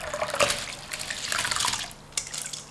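Soaked glutinous rice being rinsed in a basin of water, a close, continuous sloshing and splashing with small drips and trickles that ease briefly and resume, without any talking.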